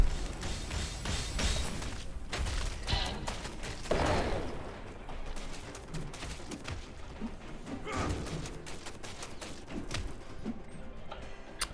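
Continuous rapid gunfire in the video game Kill Squad, with dense overlapping shots and impacts running the whole time at a moderate, fairly steady level.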